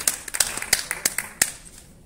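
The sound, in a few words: applause at journalism award ceremony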